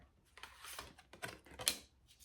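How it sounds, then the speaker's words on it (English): Tarot cards shuffled by hand in a few quick riffling bursts with soft slaps, close and fairly quiet, with no talk over them. "we're going to shuffle the tarot deck a few times here to get some more messages for you"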